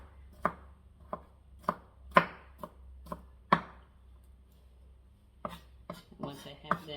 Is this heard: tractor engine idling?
no